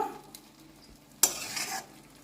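Potatoes being stir-fried in a pan: quiet low hiss at first, then a sudden loud scrape of a spoon starting a burst of sizzling that lasts about half a second before fading back to a soft hiss.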